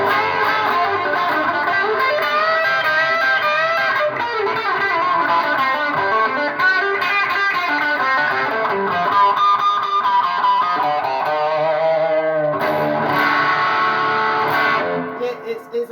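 An electric guitar plays through a Bluesbreaker MK1 clone overdrive pedal, sustained driven chords and melodic lines ringing loud and steady before trailing off near the end.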